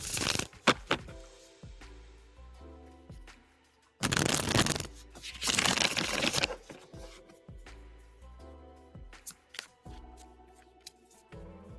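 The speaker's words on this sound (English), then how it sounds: "I'm shuffling for you now." Tarot cards are shuffled by hand in close, crisp bursts of riffling and slapping, with a louder, denser flurry in the middle and lighter taps toward the end.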